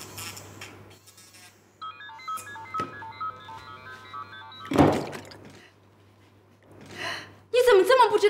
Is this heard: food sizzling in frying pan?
no